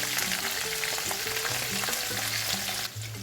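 Okra stir-fries in hot oil in a pan, giving a steady, bright sizzle with faint stirring scrapes, close and constant throughout, while background music plays underneath.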